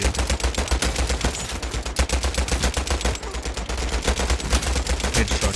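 Rapid, sustained bursts of automatic gunfire from a WW2 shooter video game, loud and continuous with dense repeated shots and no talk.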